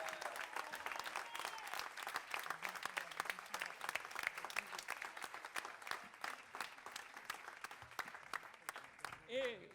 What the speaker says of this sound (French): Des applaudissements nourris pour notre Benjamine, Rachel Le Toquin, 18 ans